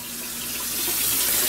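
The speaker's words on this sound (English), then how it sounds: "Go ahead and dump 2 cans of water down in there." Cans of cool water poured into a homebrew fermenter, used to rinse leftover apple juice from the cans: a steady, close splashing pour that swells slightly louder as it goes.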